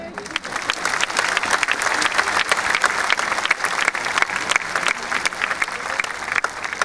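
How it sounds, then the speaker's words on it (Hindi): A crowd applauding steadily at a poetry recital at a college festival, dense clapping that holds at an even, fairly loud level throughout with no voices on top. "एक बार तालियां बजा दो।"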